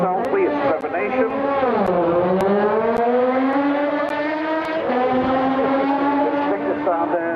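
A Ducati 888 racing motorcycle revs hard and pulls away at the Isle of Man TT Formula 1 Superbike start in 1990, engine pitch rising and shifting loudly and close, with a commentator talking over it.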